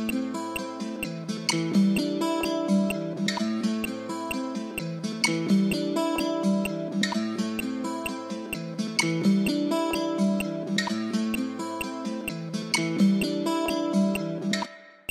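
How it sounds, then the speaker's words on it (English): Kontakt guitar loop repeating the same plucked phrase over and over for a type beat, even rhythmic picking cycling steadily at moderate level with nothing else over it. "just playing the same thing over and over"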